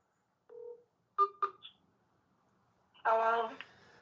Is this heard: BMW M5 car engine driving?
no